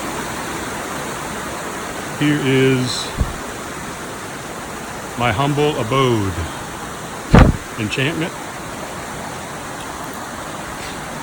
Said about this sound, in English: This is my private little creek right here.